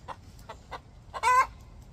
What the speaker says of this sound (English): Do you guys hear that chicken singing?